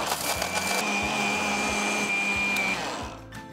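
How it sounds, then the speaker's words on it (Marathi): A mixer grinder whirs loudly and steadily grinding roasted spices, with a high motor whine and rattling as contents churn, then slows and winds down near the end. "आणि पुन्हा मिक्सरला ग्राइंड करायचं आहे"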